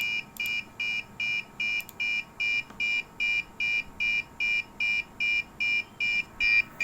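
Gas-detection buzzer in a COVID-19 ward monitoring system built around an MQ2 sensor, sounding a steady train of short, loud, evenly spaced electronic beeps, about two per second, close and alone.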